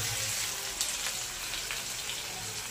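Ginger garlic paste frying in hot oil with cumin and mustard seeds, a steady close sizzling hiss with faint crackles throughout and no talking.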